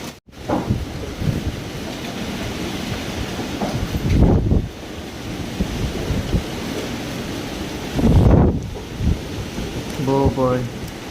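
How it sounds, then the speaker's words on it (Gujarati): Strong storm wind roars steadily outdoors and surges into two loud gusts partway through, with a brief voice speaking near the end. "પવન આવ્યો જોરદાર."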